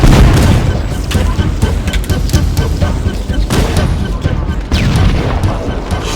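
Enemies in the Library level of the Halo Campaign Evolved shooter keep up a dense, continuous stream of gunfire and booming blasts, loud and close.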